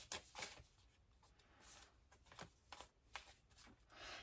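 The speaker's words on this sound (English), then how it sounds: "There's a card I feel that wants to come out here, so I'll just give it another" A deck of tarot cards being shuffled, with repeated soft riffling bursts and slides across about four seconds, fairly close and quiet, with no talking.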